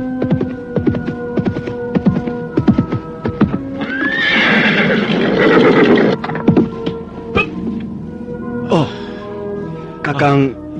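A horse neighs loudly and repeatedly as a rider on horseback approaches, with clip-clopping hooves and a low throbbing hum throughout in a period drama scene.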